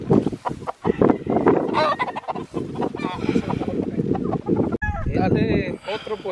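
Roosters and chickens from a fighting-cock yard, with clucks and crowing-like calls running through continuous loud fowl noise.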